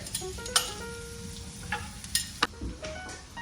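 Garlic and onion sauté in a teaspoon of butter in a pan, giving a steady, gentle sizzle broken by a few sharp clinks and scrapes of a utensil stirring against the pan, close up.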